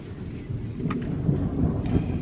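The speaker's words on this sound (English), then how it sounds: "You see the rains. So yeah, it's starting to come again." Rain falls on a campervan awning during a camping trip in the Yorkshire Dales, a close, steady pattering patter with a low rumbling undertone throughout.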